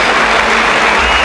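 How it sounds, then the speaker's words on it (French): A burst of loud audience applause at a kickboxing event, dense steady clapping from a large crowd throughout. "Vos applaudissements."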